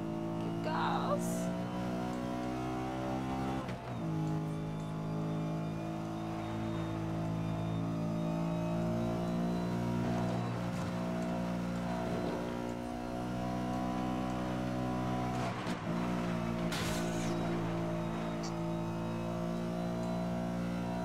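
A car engine in the racing video game Need for Speed: Most Wanted drones steadily throughout, its tone shifting slightly as the car speeds along, while players' voices talk over it.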